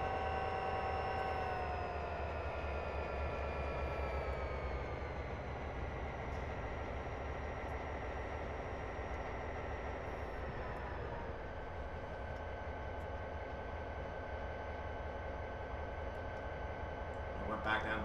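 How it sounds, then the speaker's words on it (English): Inside the cab of a freight train locomotive on Cajon Pass, a steady diesel drone with layered engine tones that shift in pitch as the throttle changes, continuous and fairly loud throughout. "bump it up to a level 4 throttle for a moment there"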